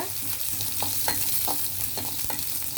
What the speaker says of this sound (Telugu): ఇది కొంచెం వేగితే సరిపోతుంది